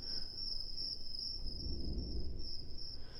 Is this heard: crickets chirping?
yes